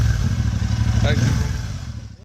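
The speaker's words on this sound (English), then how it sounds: "I am riding Royal Enfield Super Meteor 650" A Royal Enfield Super Meteor 650 motorcycle being ridden gives a steady, loud low engine drone with rushing wind noise. The sound holds constant, then fades out near the end.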